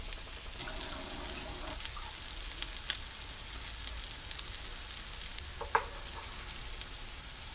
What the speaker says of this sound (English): that allows that butter oil to kind of get all the way around, and it allows it to brown up really nice